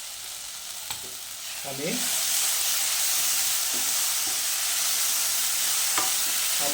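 Masala frying and being stirred with cooked onions in a pan, a sizzle that swells louder after a couple of seconds, with a few scraping stirs of the spoon; a single spoken word is heard briefly.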